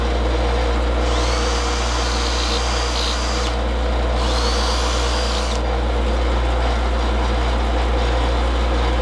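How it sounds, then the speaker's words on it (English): A grinding wheel takes the burr off a Ruger Mark I-II-III pistol magazine. There are two distinct passes of harsh, high metal-on-wheel grinding over a steady, loud motor hum. "Now I'm going to take the burr off. Now I'll touch it up on the fine wheel off camera."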